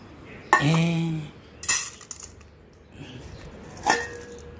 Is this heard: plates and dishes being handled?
yes